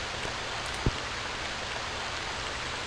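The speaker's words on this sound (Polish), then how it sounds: "gdy pada deszcz, gasi nam się ogień" Steady rain in the video game Stranded 2 hisses evenly throughout, with one brief soft thump early on and no voices.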